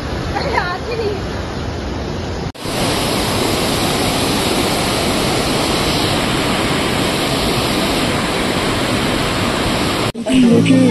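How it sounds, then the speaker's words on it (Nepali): Rushing water of the Okhreni Pangsom waterfall on a hike, a loud, steady broadband roar that fills the whole clip after a brief quieter opening. "यहाँ चाहिँ झरना पुरै खतरै पानी गइरहेको है"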